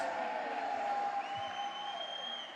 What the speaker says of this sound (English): you can hear the crowd coming to life here